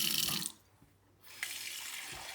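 Tap water runs into a two-cup measuring cup in a short burst, stops briefly, then flows again, close and steady with no talking.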